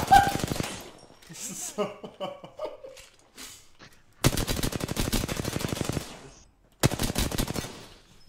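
Rapid automatic gunfire from the video game Apex Legends, loud and close, comes in long sustained bursts with short pauses between them, while players talk and react in excited voices across the gaps.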